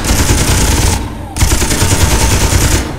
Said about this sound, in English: we'll start with the machine gun